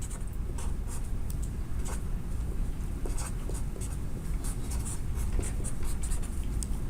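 Continuous scratching and tapping of a marker or chalk on a board as a capacitor circuit diagram is drawn during an electrical engineering lecture, steady and close with no voices.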